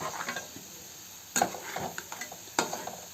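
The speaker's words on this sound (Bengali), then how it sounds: "যখন একটু কালার চেঞ্জ হয়ে আসবে তখন আমি এগুলোকে সিমে দিয়ে ভাজবো।" Mini samosas deep-frying in hot oil over medium heat give a continuous crackling sizzle, broken by a couple of sharper metallic clinks from a slotted spoon or pan, and no talking.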